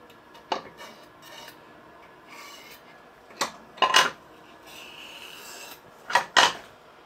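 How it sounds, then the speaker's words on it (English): A scraper works around a metal casting in short, separate bursts of rasping and grating, with a few sharp clinks between quieter stretches, close and fairly crisp. "We can scrape around here."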